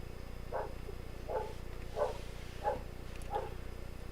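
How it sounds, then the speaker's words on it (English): A dog barks five times at a steady rhythm, each bark short and somewhat muffled as if from another room, over a constant low hum. "Whose dog is it?"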